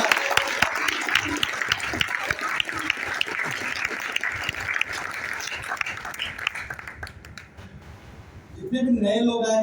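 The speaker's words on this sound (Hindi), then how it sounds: "लोगों का एक जोरदार तालियों के साथ" A large crowd at a business plan meeting for distributors in Thane claps loudly and steadily for about eight seconds, then the clapping stops and a voice starts speaking.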